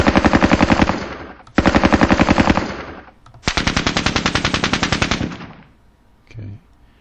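RPK machine gun in a Soviet-Afghan War video game fires three long bursts of rapid, loud, evenly spaced shots with short pauses between them, then a faint mechanical clunk.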